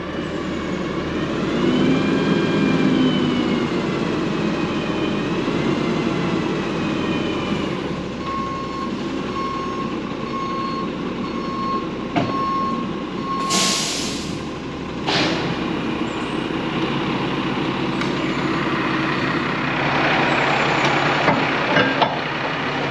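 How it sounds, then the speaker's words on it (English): Roll-off truck at a dump station loading a trash compactor onto its back, its engine running loud and close with a steady beeping backup alarm and intermittent hydraulic and clanking sounds, no talking. "getting ready to roll the compactor up on the back of the truck so they can get that emptied and brought back"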